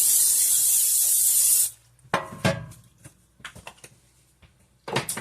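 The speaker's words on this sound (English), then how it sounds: "your loaf pan here, and we are going to spray" Cooking spray hisses into a loaf pan for under two seconds, followed by close clatters and knocks of the pan being handled.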